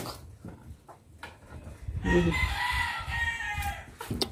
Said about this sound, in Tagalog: Ang mga manok nga kusog manuhak.